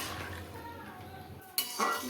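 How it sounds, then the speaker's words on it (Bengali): A spoon stirring boiled potatoes and spices with water in a pan, a soft wet scraping followed by a couple of sharp metallic clinks near the end. "আলু আর মশলা ভালো করে জলের সাথে মিশিয়ে দিলাম।"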